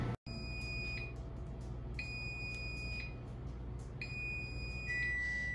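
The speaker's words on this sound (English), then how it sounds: "we had the beeping from the microwave and the beeping from the air fryer" Electronic beeps from a microwave and an air fryer repeat in steady pulses about once per second, chiming together over a low hum, fairly close.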